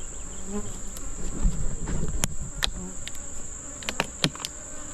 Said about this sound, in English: the bees are definitely riled up after removing the entrance seducer like I did